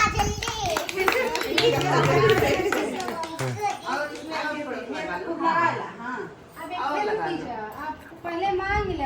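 People clap their hands at a family gathering celebrating a baby girl's birth in Awadh. The claps are quick and uneven, mixed with children's voices, singing and chatter close by.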